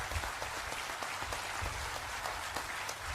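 Welcome applause for Amit Shah from a crowd at a reception ceremony in Andaman and Nicobar, a steady mid-distance patter of many people clapping, fairly faint and sustained without voices.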